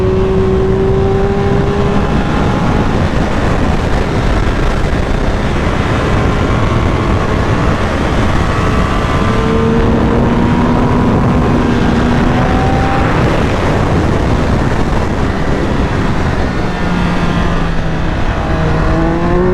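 Triumph Speed 1200 RR motorcycle from 2022 with a strong-pulling engine, revving loud and continuous with rising and falling pitch sweeps as it accelerates through the gears.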